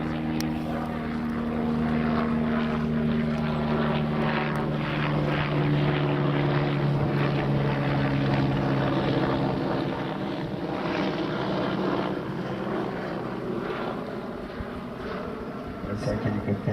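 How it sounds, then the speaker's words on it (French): A helicopter hovers over a polo field, its steady droning rotor and engine hum loud and continuous throughout, with wind noise buffeting the microphone. "C'est un hélicoptère au-dessus du terrain numéro 2."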